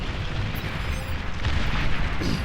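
A geothermal plant explodes in the strategy game Beyond All Reason, a loud, sustained rumbling blast with dense low-end roar filling the whole stretch, no voices over it.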